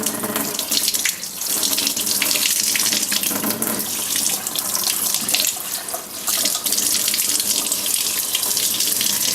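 Filtered water runs steadily from a kitchen tap, a loud, continuous rushing splash into a container while making kefir, with slight fluctuations in flow and no voices.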